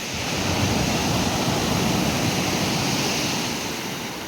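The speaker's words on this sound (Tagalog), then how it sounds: "medyo mataas yung alon, high tide" Ocean waves at a beach at high tide make a loud, steady roar of surf that stays unbroken and close throughout, with no distinct single breakers standing out.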